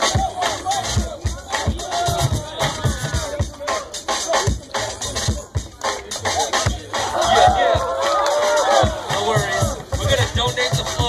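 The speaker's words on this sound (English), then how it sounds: "Yo, give it up, crowd, give it up. Give it up for that battle." Crowd at a rap battle between Ground Rockerz and United Outkast cheering and shouting in a dense, continuous roar, with loud voices and whoops rising toward the end.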